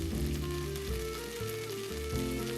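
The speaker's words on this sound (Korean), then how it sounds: "따뜻한 밥 또는 데운 밥을 넣고 볶아주세요." Warm rice stir-frying in a pan for egg fried rice, a steady close sizzle and crackle of frying with a pan scraping underneath, continuous and fairly loud with no talk.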